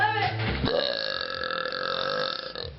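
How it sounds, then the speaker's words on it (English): A long, loud burp close to the mic, drawn out for nearly three seconds with a rough, rumbling tone and a quick belch just before it. "Every time I burp, I say a sentence and I burp again."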